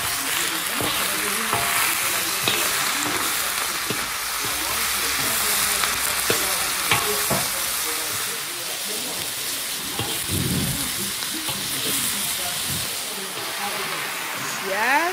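Fish and vegetables fry in a pan with a dense, steady sizzle and crackle throughout, punctuated by occasional knocks of a utensil; a voice speaks intermittently over the cooking.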